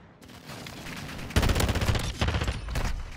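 Bursts of assault rifle fire ring out in an online shooter match, rapid loud volleys starting about a third of the way in and continuing in overlapping strings to the end.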